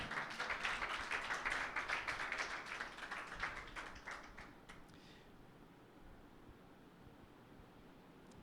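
A church congregation claps for Jesus in a steady, dense wash of many hands that carries on for several seconds, then thins and fades out, leaving a faint hiss.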